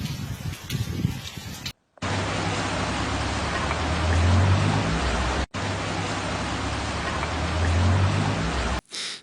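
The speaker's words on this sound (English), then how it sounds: "The rain may be accompanied by thunderstorms, increasing the risk of flooding in vulnerable areas." Heavy rain pours during flash floods in Spain's Murcia region, a loud, steady roar of downpour broken by two brief cuts to silence.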